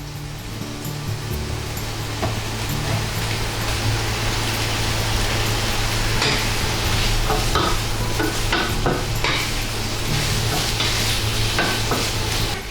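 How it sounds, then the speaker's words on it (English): Steady, loud sizzling of green peppers and deep-fried tofu frying in a hot pan, with occasional stirring scrapes and clinks throughout, no talking. "just keep frying until green peppers are wilted and atsuage is nicely browned"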